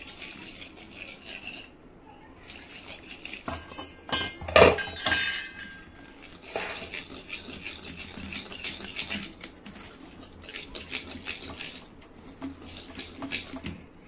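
Cake batter being stirred by hand after milk and ghee go in, with repeated clinks and scrapes of a spoon against a bowl and a sharp clatter burst near the middle.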